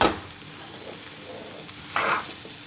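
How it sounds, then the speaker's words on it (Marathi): Sweet puran poli filling being stirred and sautéed in a pan, a soft close sizzle with a couple of brief scraping strokes of the spoon. "आता हे व्यवस्थित परतून घ्यायचं सगळं"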